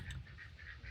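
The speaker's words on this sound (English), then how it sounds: "I hear my ducks quacking in the background" Ducks quacking outdoors on a sunny, breezy farmstead morning, a few rhythmic nasal calls, faint and somewhat distant, with no talk over them.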